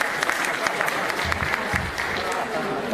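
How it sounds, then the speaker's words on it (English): Audience applause for a speaker's wife at a BMW and Mini enthusiast gathering, a steady dense patter of many hands clapping throughout, moderately loud and close, with no clear voices over it. "Okay, you can applaud."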